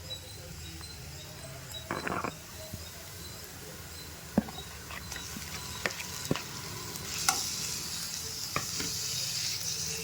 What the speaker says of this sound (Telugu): ఇది పచ్చి వాసన పోయేంత వరకు వేయించుకోవాలండి